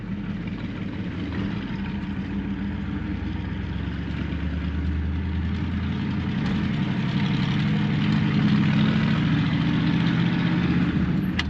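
A 1964 Chevrolet Impala lowrider engine running while still cold, a steady close low rumble that grows a little louder toward the end, with no talking.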